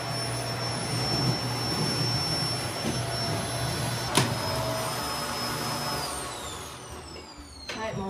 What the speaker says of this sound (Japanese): 物をどけて掃除機って嫌なんですよ。